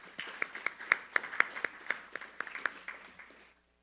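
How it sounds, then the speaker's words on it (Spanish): Audience applause at an academic panel on Mexico trade law, heard as a run of distinct, fairly close hand claps that build briefly and then thin out and stop after about three and a half seconds. "Recibámosla con un aplauso."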